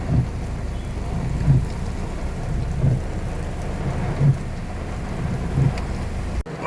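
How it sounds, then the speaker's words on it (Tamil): Steady heavy rain pours down with a broad, constant hiss, and low rumbling thuds recur every second or so beneath it. "அடித்து கொளுத்திய வெயிலுக்கு இதமான நல்ல மழை"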